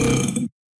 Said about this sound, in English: I burped in class.